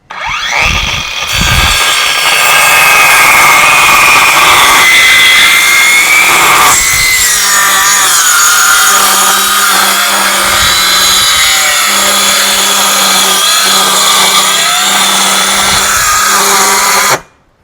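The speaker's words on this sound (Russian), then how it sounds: "сделаю еще один пропил, чтобы вы посмотрели, как идет пила, с каким звуком" A cordless power saw running on a TPCELL 8Ah battery with EVE INR21700 40PL tabless cells whines loudly and continuously as it cuts through wood, its motor pitch shifting under load for a long, unbroken stretch.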